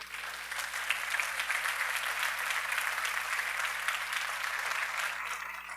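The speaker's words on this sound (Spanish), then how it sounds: "Denle un aplauso a nuestro Señor" A church congregation applauds in praise of the Lord, a dense, steady wash of clapping that holds at an even loudness from start to finish with no voices above it.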